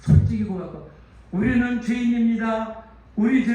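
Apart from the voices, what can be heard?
None of the usual background noises is heard.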